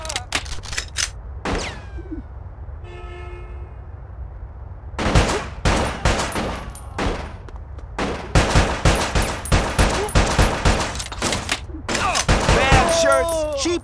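Rapid bursts of gunfire and explosive blasts fill a Bad Boys: Miami Takedown shootout, dense volleys after a quiet opening with a short electronic beep pattern, loud and close throughout.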